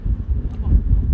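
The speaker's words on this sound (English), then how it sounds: "But it's very windy." Strong wind gusts buffet a single-platform railway station, a loud, continuous low rumble with rises and falls throughout, close up against the microphone.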